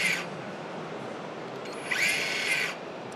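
A Flex circular saw at a roofing and timber trade fair gives two short high-pitched bursts, the second one running about a second before braking quickly to a stop, over a busy hall background.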